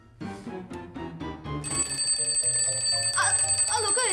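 An alarm clock bursts into continuous, shrill ringing partway through, loud and close. Voices and other household sounds come just before it, and the bell keeps going to the end.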